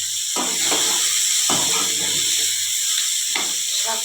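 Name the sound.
vegetables frying in a pan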